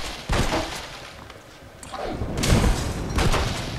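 Gunshots from Red Dead Redemption crack out at windows inside a dim building. A few sharp, loud reports are spaced apart, and shattering glass and clatter follow them.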